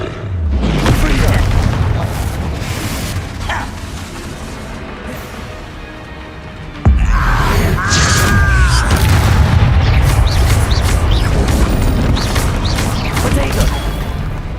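A Confringo fire spell in Hogwarts Legacy bursts with a heavy, booming blast that rolls into a sustained rumbling roar, with a second sharp impact midway, all loud and layered over game effects.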